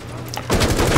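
Gunfire in the Rainbow Six tactical shooter game breaks out after a quiet start, a loud, close, continuous rattle of rapid shots filling the second half.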